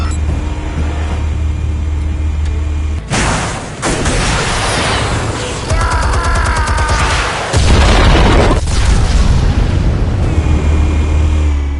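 Loud explosive detonations in the Batman Telltale game: heavy booms and rumbling blasts break out in several bursts over a sustained roar of debris and noise, with no talk.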